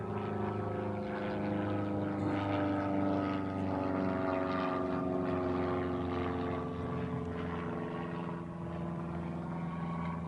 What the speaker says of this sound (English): I'm just going to let this airplane fly overhead here